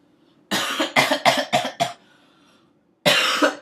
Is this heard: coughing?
yes